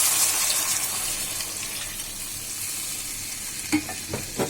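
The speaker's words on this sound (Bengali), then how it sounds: "এবার আমি ঝোলের পানি দিব" Water for gravy is poured into a pot of half-cooked vegetables, including potatoes and kakrol, making a steady hissing sizzle and gush with a few sharper splashes and stirring clinks near the end.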